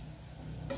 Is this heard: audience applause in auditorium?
no